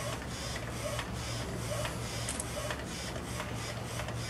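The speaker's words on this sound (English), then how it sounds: "and now the printer is going to come back and print the color pass." A direct-to-garment T-shirt printer lays down its color pass over a finished white underbase, giving a steady mechanical whir with faint repeating ticks and shuttle pulses, close and continuous.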